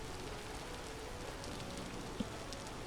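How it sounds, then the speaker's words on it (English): Steady rain hisses evenly across the ground in the survival video game Vintage Story, a soft, unbroken wash with one small click near the end and no voices. "Lovely rainy day again."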